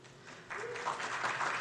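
An audience at an Irvine city council candidate forum applauds, faint scattered clapping that swells into fuller, steady applause partway through and continues to the end.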